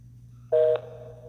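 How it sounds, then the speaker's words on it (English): A K2 ghost hunting device emits a short electronic dial-tone-like beep, a steady buzzy tone lasting about a quarter second over a low constant hum, with no talk. "That little dial tone noise"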